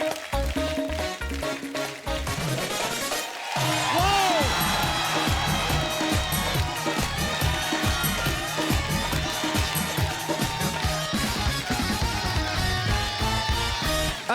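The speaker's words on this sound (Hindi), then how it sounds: "एक बार अर्चना जी के लिए जोरदार तालियां हो जाए" Studio audience at a comedy talk show cheers and applauds loudly over continuous music, a dense steady roar of clapping and whoops filling the whole stretch.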